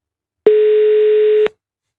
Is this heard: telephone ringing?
yes